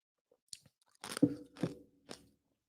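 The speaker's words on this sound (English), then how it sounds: "Excuse me, chewing ice." Ice being chewed close to the mouth: a few quiet crisp crunches, then a loud cluster of crunching bites followed by two more brittle crunches before fading to silence.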